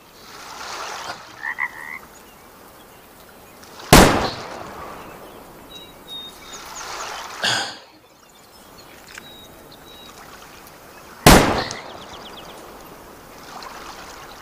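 Two sharp, loud rifle gunshots in the hunting game Way of the Hunter, spaced several seconds apart, with croaking frogs and ambient outdoor noise in between.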